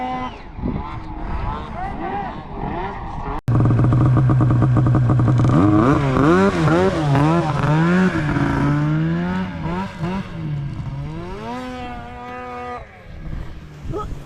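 A long-track snowmobile engine revs loudly and close by, its pitch climbing and falling in repeated surges before settling into a steadier drone.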